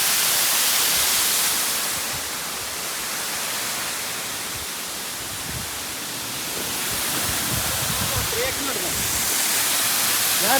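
A roadside waterfall near Kakkayam pours with a loud, continuous broadband rush that swells and eases slightly. A few faint low knocks come in near the end.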